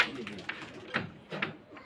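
Rajshahi Giribaj pigeons cooing softly at a pigeon loft, a few low murmuring coos spread over a couple of seconds with faint background noise.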